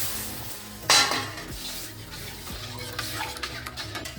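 A sudden loud hiss as cold water hits a hot pan of fried semolina, followed by bubbling, sizzling and a few clinks of a utensil.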